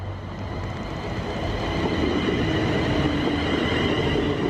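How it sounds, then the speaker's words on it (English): A passenger train in special livery rumbles past at a station on the line toward Nuneaton or Rugby, a loud, steady rolling roar that builds slightly and holds, with no talk over it. "this is the train that will take me to Nuneaton or Rugby"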